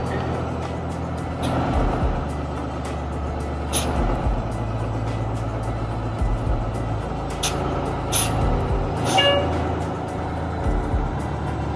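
1984 MC-9 bus conversion reversing into a narrow spot beside a garage, a steady low engine rumble with sharp air brake hisses bursting out at intervals, close by with no talk.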